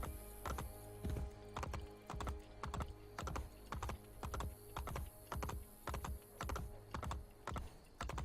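Horse hooves clip-clop steadily in the Assassin's Creed Brotherhood video game, a regular trotting rhythm of sharp, close hoof strikes riding through city streets, with no talk over them.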